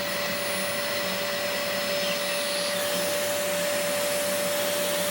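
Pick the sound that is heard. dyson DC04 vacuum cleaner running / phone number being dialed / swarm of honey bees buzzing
dyson DC04 vacuum cleaner running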